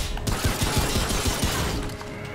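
Rapid gunfire in the video game Remnant From the Ashes, a dense burst of repeated shots in quick succession over a loud, busy game soundscape.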